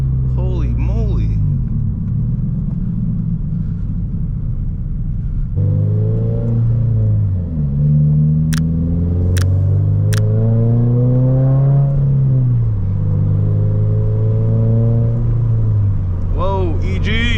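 A manual 2022 Subaru BRZ's engine rumbles loudly from inside the moving car, climbing through revs in several pulls between gear changes, with a few sharp short beeps and brief talk near the start and end.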